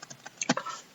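Several quick key clicks from a computer keyboard, a short burst of typing heard fairly close in a quiet room with no voices.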